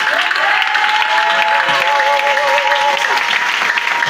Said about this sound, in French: Je te donne toutes les formes d'acclamation